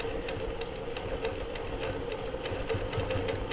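A longarm quilting machine stitching closely around an appliqué, a steady fast mechanical hum with rapid rhythmic needle ticks throughout, moderately quiet and with no voices.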